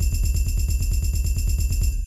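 Short sub bass hitsound sample for an osu! beatmap, a rapid run of deep pulsing low hits repeating evenly for about two seconds, loud and alone, then cutting off abruptly.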